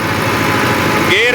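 An ATS 290 tractor engine with a rotavator holds a steady 1500 RPM, a close, continuous rough drone, joined near the end by a brief rising whine while a voice is faintly present.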